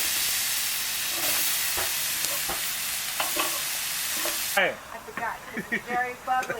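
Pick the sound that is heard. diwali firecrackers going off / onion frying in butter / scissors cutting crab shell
onion frying in butter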